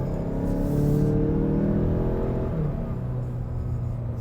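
A 2019 Mazda CX-5 Signature with its turbo engine pulls under acceleration, a steady, moderately loud engine drone with rising tones and no voices over it.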